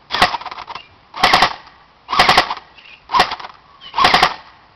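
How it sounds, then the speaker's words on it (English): An extreme-fire airsoft gun shoots five tight, loud bursts of rapid clattering shots spaced roughly a second apart, each burst sharp and close with brief quiet gaps between. "Alright, now 3-round burst."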